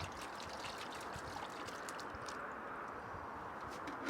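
Water runs steadily over a sprayer part used for tomatoes, a faint, even trickle and splash that continues throughout.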